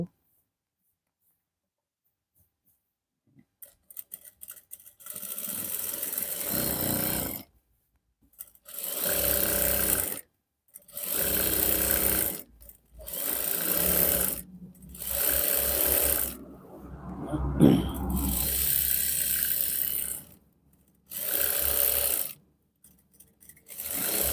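A tailor's sewing machine stitches pen-style pyjama fabric in repeated short bursts of loud whirring, each a couple of seconds long and separated by brief pauses, with a quiet start before the first run.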